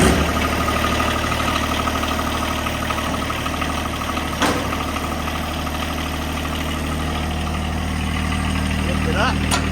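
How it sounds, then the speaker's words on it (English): A John Deere 1023E compact tractor engine runs at a steady, rumbling idle close by, after a brief start at the beginning, with a sharp clunk midway. "we'll give the tractor a quick start"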